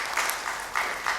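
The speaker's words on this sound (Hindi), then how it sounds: "एक बार जोरदार तालियों के साथ स्वागत करिए भाई।" Applause greets a speaker at a Hindi-language political gathering, a brief burst of many hands clapping in a steady crackle, moderately loud and close.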